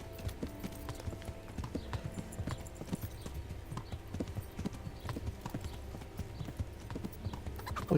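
Horse hooves clip-clop steadily in the medieval video game Kingdom Come: Deliverance, a continuous walking rhythm of moderate loudness with faint ambient game sounds beneath.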